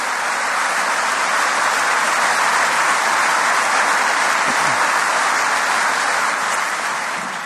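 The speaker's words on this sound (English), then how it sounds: "let's give them all a round of applause" Round of applause from a packed hall at Queen's during a Good Friday Agreement 25th anniversary conference; broad, steady clapping holds at full strength throughout, with no speech.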